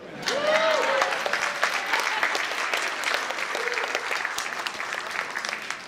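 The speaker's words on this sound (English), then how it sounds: "I pause here because you're supposed to applaud." An audience at a landmarks gala breaks into sustained applause, a steady wash of many hands clapping in a large room, with a brief voice over the start.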